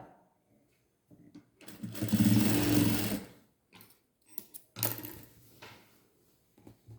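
A sewing machine stitches a lining skirt (pavadai) in two short bursts of rapid mechanical chatter separated by quiet pauses, with small handling clicks in between.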